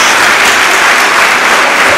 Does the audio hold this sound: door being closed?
no